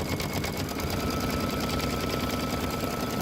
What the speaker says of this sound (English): it sewed a zigzag stitch all the way around to tack it down